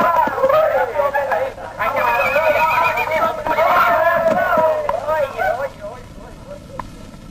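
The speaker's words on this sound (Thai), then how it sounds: "ม้าตัวนี้มึงขี่ได้" A horse whinnies loudly and close by in a scene from a Lao feature film: long, wavering cries repeat over several seconds while people talk beneath them.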